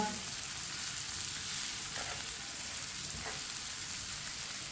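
Okra frying in a pan, a steady close sizzle with a constant hiss throughout and a couple of faint stirring scrapes.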